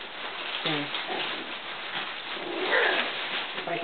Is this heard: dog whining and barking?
yes